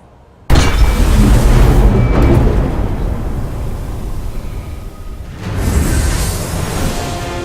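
A thrown bomb explodes in The Elder Scrolls Legends card game, a sudden loud boom that rumbles on for several seconds, followed by a second swelling blast near the end.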